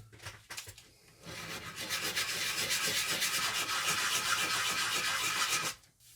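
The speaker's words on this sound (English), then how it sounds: "We'll do a little sanding on these sides we just cut." Steady, rapid scratchy rubbing of sandpaper by hand against freshly cut wood edges, continuous for several seconds after a few brief scrapes, then stopping abruptly.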